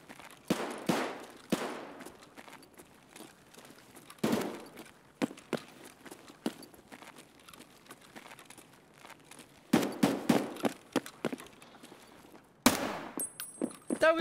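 AKS-74U gunfire rings out in Escape From Tarkov in loud, sharp bursts of rapid automatic shots, broken by pauses and clustered in several volleys, close and cracking.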